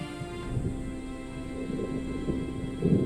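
Thunder rumbles low and steady beneath a wash of rain in the Sierra Morena hills of southern Spain, with a few heavier rolls swelling near the end; no voices.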